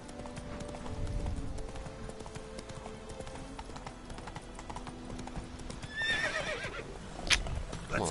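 Horse hooves clop rhythmically at a steady pace in the video game The Witcher 3: Wild Hunt, followed by a sharp whinny near the end, with quiet background sounds.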